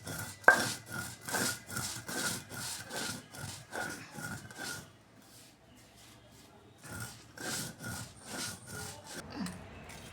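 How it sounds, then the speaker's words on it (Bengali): Chillies are ground on a stone slab for mango pickle masala, with rhythmic back-and-forth rubbing strokes in two bursts separated by a brief quiet pause, close and moderately loud. "আর এখন মরিচগুলো বেটে নেব একদম বাটা এইভাবে করে।"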